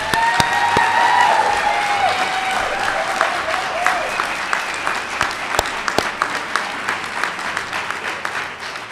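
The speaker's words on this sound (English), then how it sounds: "let's give our graduates a welcome round of applause" A crowd at a GED and HiSET graduation ceremony welcomes graduates with applause that starts full, with a few whoops, and thins into scattered, individual claps toward the end.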